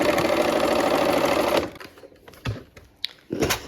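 A sewing machine stitching pieces of fabric together runs in a fast, steady, close whir for about a second and a half, then stops, leaving soft handling clicks and rustles of cloth.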